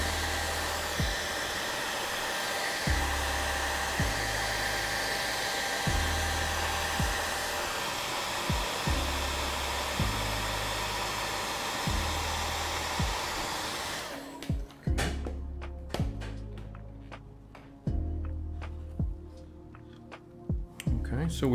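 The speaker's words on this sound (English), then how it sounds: "So I'm gonna pull the hairdryer up real close, low heat." A hair dryer on low heat held close while drying, a loud steady whoosh for most of the stretch that cuts off, leaving scattered clicks and handling sounds.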